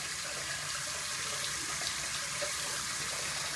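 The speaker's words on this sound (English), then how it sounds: "Just a little hot water to rinse it." Hot water runs steadily from a tap to rinse a Philips Norelco AT895 shaver, a constant close hiss with no talking.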